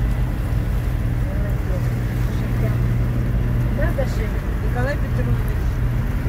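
A sailboat's engine throttled up to 2,200 RPM makes a steady, loud low drone that runs throughout, with wind and water noise on top and someone talking over it.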